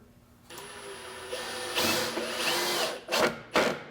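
A RYOBI cordless drill driver whirs up and drives 2.5-inch screws into wood, with a long buzzing run followed by two short bursts of the motor.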